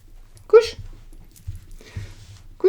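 A dog gives short, high whimpers close by, one near the start and another at the end, with soft thumps and shuffling in between.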